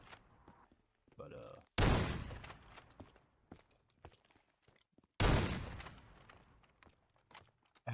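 A ZRG 20mm rifle fires in Call of Duty custom zombies on the Terminal map: two heavy, booming shots a few seconds apart, each with a long rumbling tail, while someone talks quietly between them.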